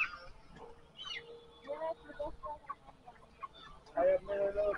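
Egg-laying hens cluck in short, scattered bursts close by, with quiet gaps between and some talking mixed in.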